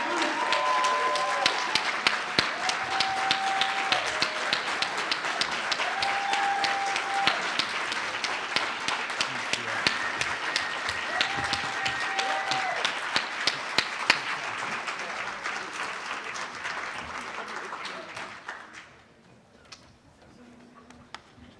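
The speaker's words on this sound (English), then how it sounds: "Can we get another round of applause for Corey?" An audience at an awards celebration applauds steadily for about eighteen seconds, a dense wash of clapping with sharper individual claps, before the applause fades away toward the end.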